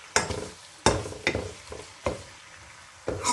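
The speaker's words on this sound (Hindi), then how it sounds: "थोड़ी देर इसको हम फ्राई करेंगे ऑयल में लाइट गोल्डन ब्राउन होने के लिए," Chicken pieces fry in oil over medium heat, with several sharp scraping stirs breaking through a low sizzle at an uneven rhythm, close and fairly loud.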